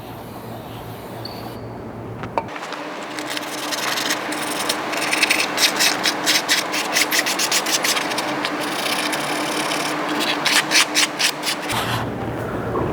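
Sandpaper scrubbing a Porsche 911 997 Carrera S wheel hub, a close, rough rasping in quick repeated strokes that starts abruptly and runs steadily with no talk.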